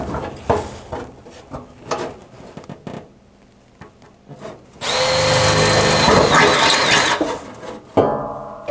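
A power drill bores into metal during fabrication work for mounting a fuse box, battery and ECM, a loud steady whine lasting about two seconds after quieter handling clatter, then a short burst at the end.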